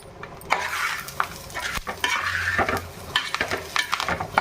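Fish curry with curry leaves sizzles and fries in a pan, a steady close crackle broken by repeated stirring and utensil scrapes, with no talking.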